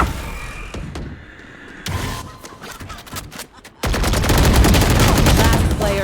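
Video game gunfire rattles in sharp bursts and scattered single shots, then swells into a dense, loud, continuous barrage of rapid fire up close.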